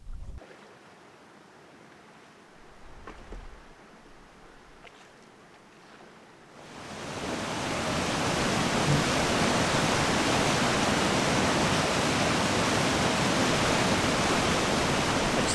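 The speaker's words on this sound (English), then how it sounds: "Sounds like I'm pulling up to another waterfall here. It's got quite the heavy rumble." A heavy, rumbling waterfall on a remote Canadian wilderness river swells up from a quiet start to a loud, continuous roar that holds steady to the end, with no voices.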